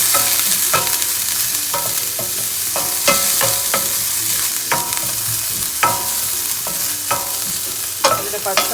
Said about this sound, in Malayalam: എന്നിട്ട് അതിൻ്റെ പച്ചമണം മാറുന്നവരെ ഒന്ന് വഴറ്റും.